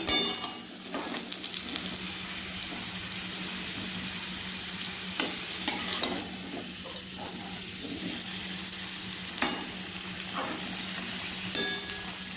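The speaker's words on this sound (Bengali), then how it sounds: "এদিকে আমি মাছগুলো ভেজে নেব" Steady frying sizzle of fish in mustard oil in a pan, with light clinks and stirring clatter scattered throughout, close and fairly quiet.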